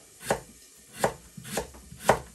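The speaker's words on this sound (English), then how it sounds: "Right, I'm going to chop the potatoes." Knife chopping potatoes into slices on a board, four distinct firm chops at an unhurried, slightly uneven pace, close and clear with no talking.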